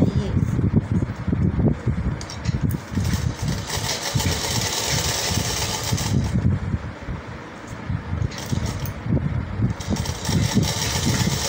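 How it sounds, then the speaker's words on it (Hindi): A sewing machine stitches a neckline onto fabric, its motor whirring steadily and fairly loud with a slightly uneven mechanical rattle, while a voice talks over it. "बिल्कुल इसके पास पास हमें सिलाई लगानी है ऐसे"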